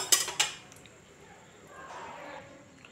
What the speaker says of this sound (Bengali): এবার আমি কড়াই বসিয়ে দিলাম, কড়াইতে জল ছিল, জলটা একটু ফেলে নিলাম যাতে তাড়াতাড়ি কড়াইটা গরম হয়ে যায়।